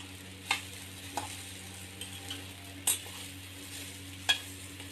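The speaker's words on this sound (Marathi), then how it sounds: "ह्याच्यामध्ये मी साबुदाणा भिजवलेला हा टाकलेला आहे आणि याला मस्त असं परतून घ्यायचं" Soaked sabudana (sago) being stirred and sautéed in a pan, with a quiet steady sizzle broken by a few sharp spatula scrapes and taps against the pan, heard alone at low volume.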